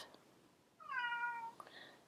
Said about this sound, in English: That is my cat George